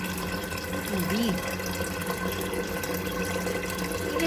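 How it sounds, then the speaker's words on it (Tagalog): Water pouring into a cooking pot to cover chickpeas, a steady running splash in a kitchen, with a faint tonal sweep midway and a slight swell toward the end. "isang pot, at lagyan ng maraming tubig"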